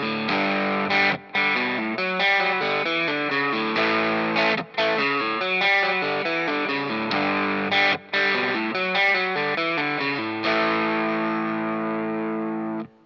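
A distorted electric guitar plays a loud, chugging riff of repeated chords, with brief pauses between phrases before a final sustained chord.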